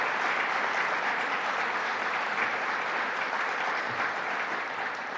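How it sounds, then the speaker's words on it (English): A crowd at a government announcement in Syracuse applauds award recipients from local towns and villages, a steady and fairly loud round of clapping that runs evenly for several seconds. "Let's give them a round of applause."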